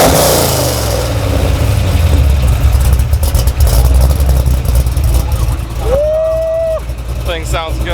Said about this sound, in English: You mind doing like a quick startup and exhaust clip real quick?